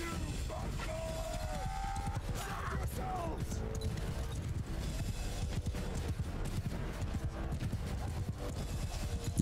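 Cavalry galloping in Mount and Blade Bannerlord during a Roman-era battle, a dense continuous drum of hooves mixed with battle clamor and a few whinny-like tones, loud throughout with no break.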